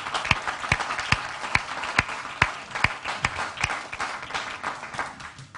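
Scattered applause from a small group, individual hand claps distinct at an uneven beat, moderately loud and steady throughout.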